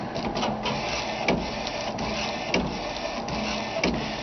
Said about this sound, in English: It's printing the underbase right now.